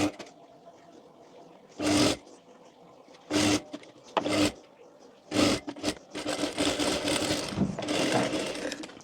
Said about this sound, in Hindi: तो इस तरह से आपको रख कर यहाँ पर पूरे में सिलाई लगा लेनी है।